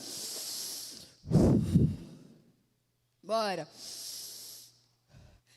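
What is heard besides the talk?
deep breathing exercise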